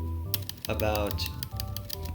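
Rapid key clicks from typing an assignment on a computer keyboard, a light patter of taps running under a steady speaking voice.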